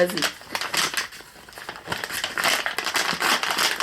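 Crinkly wrapping paper rustles and tears as a small advent calendar gift gets unwrapped at close range, in bursts of crackling, with people talking over it.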